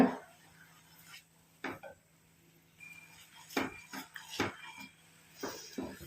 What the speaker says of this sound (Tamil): இந்த காஃபி பவுடரோட நெல்லிக்காய் பொடியும் சேர்ந்து நல்லா வந்து மிக்ஸ் ஆகணும்